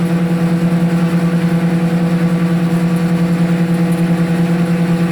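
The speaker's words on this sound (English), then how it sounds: "It's the slowest the tractor will go, running at about 1600 RPM, so that it doesn't clog itself up." A farm tractor engine runs steadily in creeper gear at about 1600 RPM while processing chestnuts, giving a loud, constant low hum with strong harmonic drone and no pauses.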